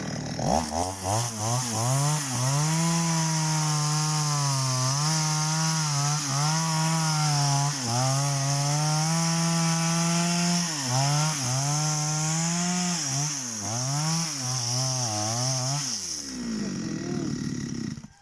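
A chainsaw cuts into the hard trunk of a long-dead jackfruit tree, its engine droning loud and close for about fifteen seconds, pitch dipping and recovering under load with brief bogs before it stops.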